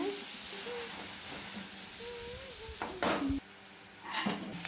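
Chopped onions dropped into hot oil with curry leaves, mustard seeds and cumin give a soft, steady sizzle, with a few brief clinks of a utensil against the pan and louder bursts near the end.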